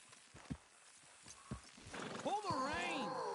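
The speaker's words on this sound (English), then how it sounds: "Horses will pull it clean down." Horses neigh and whinny loudly over hoof clops and shuffling as a team pulls in the Red Dead Redemption 2 video game, with a voice speaking early on.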